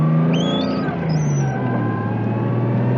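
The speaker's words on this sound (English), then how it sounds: "The exhaust is loud." A Nissan S13 240SX with a swapped RB20DET engine: its exhaust roars loudly and steadily at close range, a deep throaty rumble holding for a few seconds.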